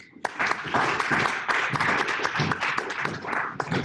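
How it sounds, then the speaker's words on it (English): Round of applause for Alex Clark at the close of a student Zoom event, a few close, uneven claps with sharp hand-strikes over a softer patter, continuing throughout. "let's give a round of applause to Alex"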